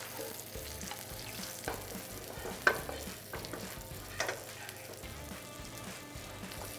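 Salmon frying in a pan, a steady close sizzle and crackle with faint spitting pops and occasional stirring scrapes, no talking.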